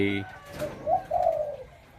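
A pigeon coos nearby: two soft, low, rounded coos in quick succession, fairly close and alone, after a short electronic tone at the start.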